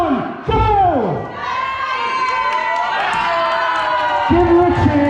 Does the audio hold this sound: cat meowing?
no